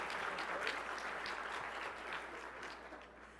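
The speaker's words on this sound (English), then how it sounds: "A big round of applause." Applause from an audience at the Upper Midwest Emmy Awards ceremony, a steady wash of many hands clapping at moderate volume, fairly even throughout and heard alone without voices.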